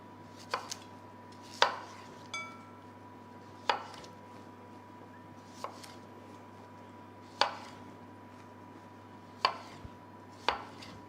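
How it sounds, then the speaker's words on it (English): A knife cuts baby potatoes in half on a chopping board: distinct wooden knocks land at irregular intervals, each crisp and close, with quiet room tone between them and no talking. "So I'm going to start off by halving the baby potatoes"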